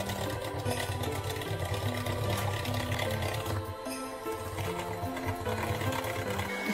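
An electric hand mixer whirs steadily while beating eggs into cake batter for a marble cake, a continuous close motor drone with slight changes in pitch.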